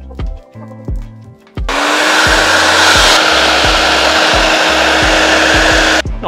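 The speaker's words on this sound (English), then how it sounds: "Yet again, the hairdryer," A hair dryer kicks on after a few knocks and blows steadily at close range, a loud continuous whoosh with a faint whine, while light taps and clunks continue.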